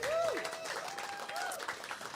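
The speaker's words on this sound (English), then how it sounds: "Can we have a little cheer?" An audience at a live tribute show applauds and cheers for the MC, steady moderate clapping with a few scattered voices rising over it.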